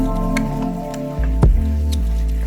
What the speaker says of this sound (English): Add a flat tablespoon of the Korean chili paste and stir.